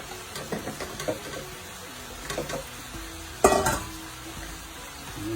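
Vegetables for a fish curry fry in a pan with a soft steady sizzle, broken by stirring scrapes and a sharp clatter of utensils against the pan.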